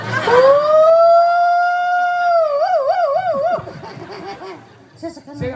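An ambulance siren rises and holds a long, loud tone, then wobbles in a fast warble before breaking off, with voices and laughter around it at a Calonarang temple performance in Gianyar, Bali.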